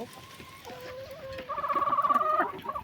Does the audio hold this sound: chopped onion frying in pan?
no